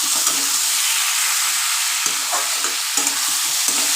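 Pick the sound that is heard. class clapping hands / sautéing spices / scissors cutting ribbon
sautéing spices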